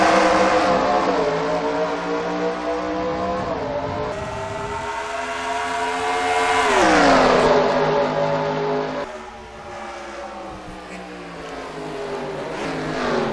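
Race cars accelerating together at a green-flag restart in a racing video game, a dense, sustained engine roar with rising revs that swells loudest mid-way, then drops back to a steady drone with no talk.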